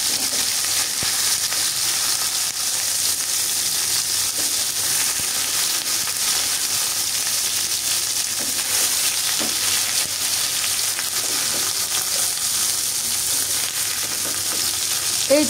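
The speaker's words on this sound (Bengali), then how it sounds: "চিকেনগুলো আমার ভাজা হয়ে গেছে।" Chicken pieces fry loudly in a pan for a homestyle chicken bhuna, a dense, even, close sizzle that holds steady throughout with faint occasional clinks and no voices.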